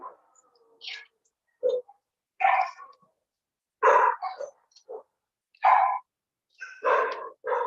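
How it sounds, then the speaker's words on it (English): Several dogs bark in a home behind a public hearing held over a call, giving intermittent bursts of barks and yips, some close and loud, separated by short silences. "My dogs are now starting to bark too."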